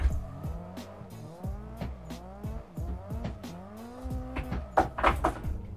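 Car tyres squealing while drifting in the Assetto Corsa sim, with repeated rising and falling squeals over a revving engine and sharp bursts as grip breaks, alone and fairly close.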